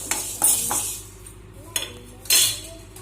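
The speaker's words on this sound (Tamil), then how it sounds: "வெந்தயம் வந்து கைவிடாமல் ஃப்ரை பண்ணுங்கள்" Fenugreek seeds frying in a pan for fish masala while a metal spoon stirs them, producing a few bright clinks and scrapes against the pan over a low hiss.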